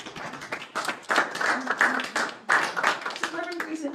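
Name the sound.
audience applause for a 99-year-old Negro Leagues legend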